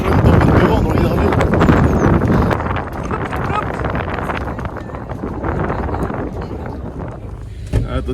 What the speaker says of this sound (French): nous partons en pleine tempête de vent dans l'hydravion